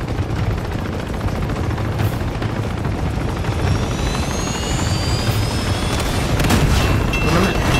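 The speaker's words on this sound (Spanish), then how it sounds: "Tienes el helicóptero de un lado" A helicopter in the video game Uncharted 2 fills the scene with a constant loud whirring roar, while bursts of gunfire and whooshing sweeps cut in toward the end.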